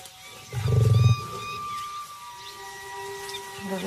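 An Asiatic lion in India gives a deep, short roaring grunt at close range, followed by quieter wild ambience with a faint distant hum.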